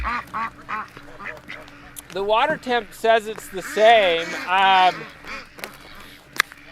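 Farm ducks quack loudly in a rapid, excited run of calls, close by, with people talking over and between them.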